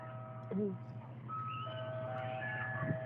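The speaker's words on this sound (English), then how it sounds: "Locals would describe the chime of an ice cream truck, except wrong in every way." An eerie, distorted ice cream truck chime, thin sustained tones that bend and drift off pitch, playing over a low droning bed with a voice speaking alongside.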